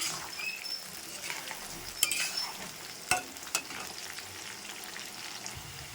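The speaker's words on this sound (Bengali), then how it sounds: "আমি ফুলকপি আর আলু আর যেটা মৌ আলু বলে মিষ্টি আলু তো ওটা কিন্তু আমি ভেজে নিচ্ছি সুন্দর করে" Cauliflower, potato and sweet potato fry in a pan with a constant close sizzle, broken by a few sharp clinks of a utensil against the pan.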